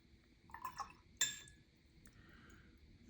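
Water dropped onto a watercolor paint swatch gives a few soft drips and a small, glassy clink, close and quiet, followed by faint trickling over low background noise.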